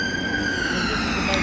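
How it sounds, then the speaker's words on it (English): An ambulance siren wails loudly and continuously along a London street near Parliament, its pitch sliding slowly over steady traffic noise, with a voice faintly audible beneath it. "We've got an ambulance which is shrieking its head off."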